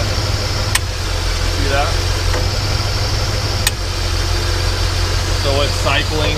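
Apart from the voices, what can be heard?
1966 Ford F100 engine idling as the AC clicks on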